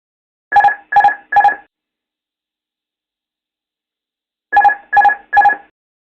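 Two separate bursts of three quick, bright electronic beeps from an ATR aircraft cockpit aural warning, the groups a few seconds apart, sharp and clear against silence.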